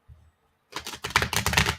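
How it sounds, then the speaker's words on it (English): A deck of cards being shuffled, a faint rustle followed after a pause by a dense, close, crackling flurry of riffling cards lasting about a second. "I'm having trouble shuffling this cards"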